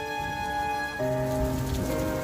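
Steady rain falls outside, a dense even patter that continues throughout under a sustained musical drone.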